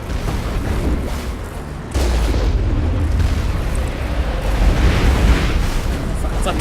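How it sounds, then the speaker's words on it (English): Rocket explosions in the Mass Effect game, a dense roaring barrage with a sharp heavy boom near two seconds and continued rumbling blasts, loud and close, with game noise throughout. "They're sending all these rockets at me."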